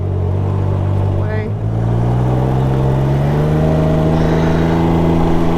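A Can-Am Ryker three-wheeled motorcycle rides along with a steady, loud engine drone and mild revving, holding a continuous hum throughout with no talking over it.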